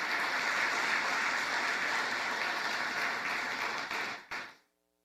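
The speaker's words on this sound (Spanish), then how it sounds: "Dele un aplauso a nuestro Dios por su gracia," A church congregation applauds, with broad, continuous clapping from many people filling the room before it fades out quickly at the end.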